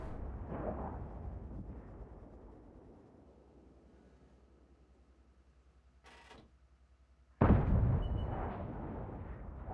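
A tank cannon fires in World of Tanks with an Obj 430 II in play, a sudden booming blast that follows a low rumble and a brief mechanical rattle, then decays into a rolling roar.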